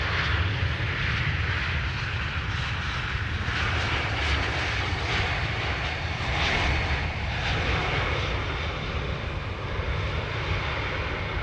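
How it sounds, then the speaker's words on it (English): A Finnair airliner arriving from Helsinki roars in on approach to the Polderbaan runway at Amsterdam Schiphol on a misty, cold morning, a loud, continuous engine rumble heard at close range with no talk. "This is Finnair, arriving from bloody Helsinki in Finland."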